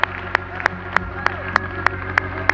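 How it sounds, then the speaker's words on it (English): A church congregation claps in praise in an even, regular beat, with sharp, distinct claps about three per second over a low, steady musical drone. "Let's give the Lord a hand clap of praise today"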